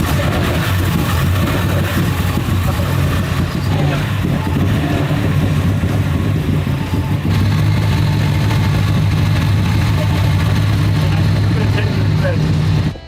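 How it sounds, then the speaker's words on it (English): A shop truck's engine idles rough and rowdy, a loud, continuous low rumble with uneven pulsing that stays close and steady for the whole stretch. "It runs, and it sounds rough and rowdy because it is."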